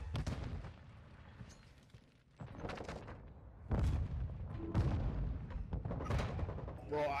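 Grenade blasts in a shooter video game during a Search and Destroy match: several sharp, loud booms and bursts of gunfire-like impacts, each with a short rumbling tail.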